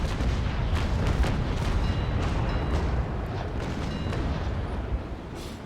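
Ship cannons from the frigate Essex, including 32-pounder carronades, fire into an enemy's sails in the age-of-sail game Naval Action; a rolling broadside of heavy booms thunders in rapid succession before easing into a rumbling tail.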